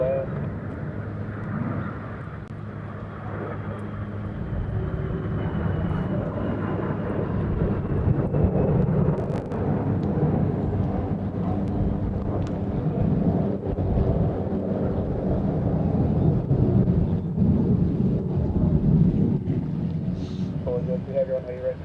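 Airplane taking off at Honolulu airport, a steady loud jet engine roar that builds gradually over about twenty seconds, heard through wind noise with air traffic control radio chatter beneath.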